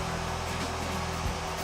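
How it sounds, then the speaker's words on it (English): A vacuum cleaner sucking pellet fines and small pieces from the feeder area of a Harman Advance pellet stove, a loud, steady motor whine and airflow roar throughout, no speech. "Vacuum any pellet fines or small pieces from this area."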